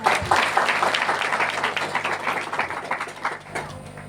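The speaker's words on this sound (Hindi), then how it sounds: "मैं चाहूँगी उनके लिए जोरदार तालियां" A seated audience breaks into loud, dense applause for a senior colleague, steady clapping that tapers slightly toward the end.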